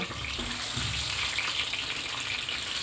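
Eggs fry in hot cooking oil for a dim bhuna, a dense, steady crackling sizzle heard up close and fairly loud throughout, with no voices.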